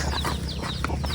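Chickens on a mountain family farm give short clucking calls, close by, over steady outdoor background noise.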